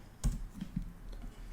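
Quiet computer keyboard typing while entering a debugger command during a return-to-libc exploit session: a few sharp key clicks, one slightly stronger tap followed by softer presses, with no talk.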